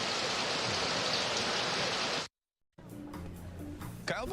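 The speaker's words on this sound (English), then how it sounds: "Looking at the rain." Steady, dense rain pours for a couple of seconds, loud and close, then cuts off abruptly to near silence before quieter ambient sound with voices resumes.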